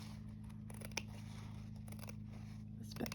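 Scissors cut paper for a handmade postcard in a series of soft, close snipping and crunching bursts. The cuts come at an uneven rhythm over a low, steady hum.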